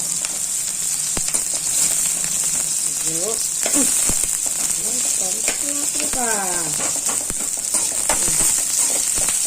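Thinly sliced onions for pasta sauce fry in a pan with a loud, constant sizzle, while a voice talks intermittently over the cooking and occasional utensil clicks.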